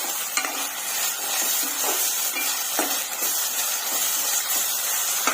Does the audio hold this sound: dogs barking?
no